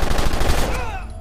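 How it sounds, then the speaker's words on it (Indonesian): Rapid bursts of automatic gunfire, loud and close, fading out toward the end. "ada seorang penjaga yang tiba-tiba datang dan menembaki mereka"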